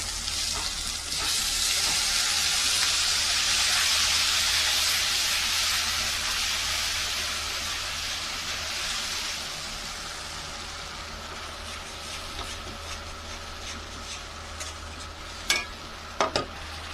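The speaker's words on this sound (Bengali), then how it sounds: "তা দিয়ে দেবো সর্ষে কাঁচা লঙ্কা বাটা।" Mustard and green chili paste dropped into hot oil in a pan for a fish curry, a loud hiss and sizzle that slowly settles into steady frying, with a few sharp clinks near the end.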